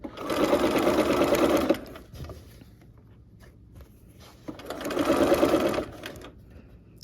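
A sewing machine stitches quilt blocks with the needle-down setting, running in two steady bursts of rapid stitching separated by a quieter pause of handling.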